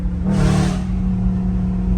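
A car engine revs up once, rising into a loud roar before settling back to a steady idle rumble, close by with no talking.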